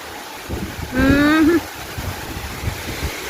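Wind blows outdoors near a rural house as a steady, rushing noise throughout, with a brief tonal voice-like sound partway through.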